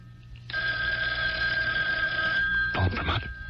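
A telephone bell ringing in a home, a steady sustained ring from near by that continues for about two seconds before a short burst of louder handling noise at the end.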